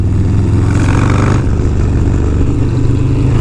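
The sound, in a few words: big-engine motorcycle revving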